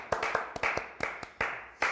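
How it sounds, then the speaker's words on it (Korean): A small studio audience at a Korean talk show gives a brief, sparse round of clapping, a handful of separate sharp claps in uneven bursts at moderate volume. "일단 박수 한번 드립니다"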